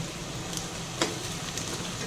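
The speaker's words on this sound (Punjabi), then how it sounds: "ਹੁਣ ਆਪਾਂ ਤੜਕਾ ਲਾ ਰਹੇ ਸੀ" Onion, ginger and garlic tadka sizzling in hot oil for a ridge gourd curry, a steady close crackle with a brief louder spatter partway through.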